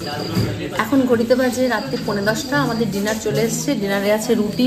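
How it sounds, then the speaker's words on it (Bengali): Crickets chirp steadily at night beside a river at Shivkhola near Siliguri, a continuous insect drone running under close, clear speech throughout. "কানে আসছে শুধু ঝিঝি পোকার ডাক আর জলের শব্দ"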